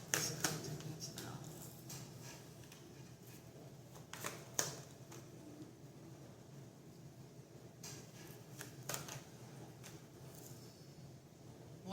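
Tarot cards are shuffled and riffled in repeated soft, crisp bursts, close by, with brief pauses between handlings and no talking.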